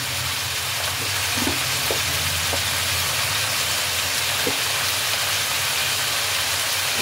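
Mixed vegetables simmer in a pan with a steady, even sizzling hiss and a few faint clicks, with no voices.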